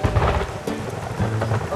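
Heavy rain falls with low rumbling thunder, a dense wash of noise across the whole moment, fairly close, with a soft tonal murmur rising briefly through it.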